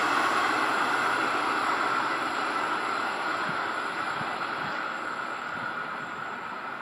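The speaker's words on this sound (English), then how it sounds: "N473, it's a loco. And some N-class carriages." An N-class diesel locomotive, N473, hauls N-class carriages along a suburban Melbourne line at Roxburgh Park, making a steady rumbling roar with faint wheel clatter that stays loud and alone throughout.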